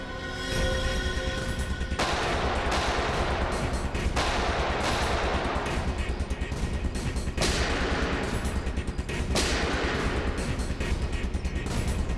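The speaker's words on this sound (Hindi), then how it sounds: "वहां से चल रही है गोलियां।" Rapid bursts of gunfire fill a shootout, sustained and loud with repeated volleys and sharp cracks, no voices over it.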